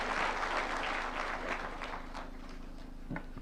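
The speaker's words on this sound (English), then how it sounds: "Why don't we welcome him with a clap?" A conference audience gives a moderate round of applause welcoming Kenya's president, a steady wash of clapping at middle distance that fades slightly toward the end.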